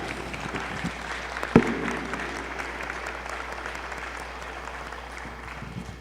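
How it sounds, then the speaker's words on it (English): An audience at a white coat ceremony applauds the families present, steady clapping from a large crowd in a hall, continuous throughout. "let's give them a round of applause"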